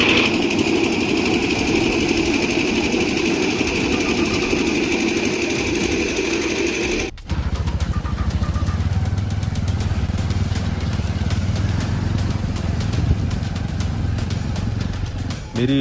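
A motorcycle engine starts abruptly midway and settles into a steady, close idle with a low throbbing drone, following a stretch of broadband background noise.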